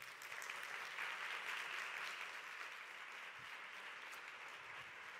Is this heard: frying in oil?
no